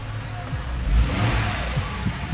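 A Mercedes-Benz ML350 luxury 4WD engine runs just after start-up, a steady close mid-pitched hum that swells slightly as it settles, with no voices.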